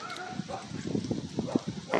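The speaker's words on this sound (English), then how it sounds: "You hear the dogs barking at us, man?" Several dogs bark and yip at a distance in quick, irregular bursts, with faint background noise throughout.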